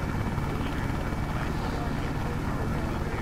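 A helicopter flies over rail lines in La Mirada, Los Angeles County, its steady rotor drone and engine rumble continuous and loud throughout without letting up.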